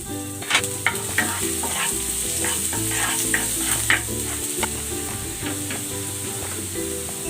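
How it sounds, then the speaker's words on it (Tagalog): Garlic sautéing in hot cooking oil in a pan, a steady bright sizzle with crackling pops, close and loud with no talking. "Igigisa ko na tong bawang."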